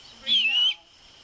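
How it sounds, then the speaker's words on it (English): One high, whistled owl call, identified as a great horned owl, rises and dips for about half a second and is clear against a quiet evening campfire setting at a state park. "So that's one of the other calls of the great horned owl."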